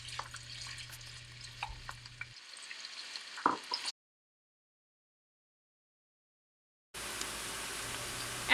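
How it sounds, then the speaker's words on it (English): Sliced onion fries in oil in a large pot over medium heat for biryani. A steady close sizzle with light stirring cuts to dead silence partway through, then the frying resumes. "In a large pot, heat oil and add onion and fry on medium heat until golden brown."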